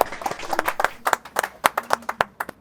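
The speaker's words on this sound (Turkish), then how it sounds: "Alkışlayın ya tabii ya." Small group clapping during a playful balloon-blowing contest, a sparse, uneven run of distinct close hand claps with a little faint chatter.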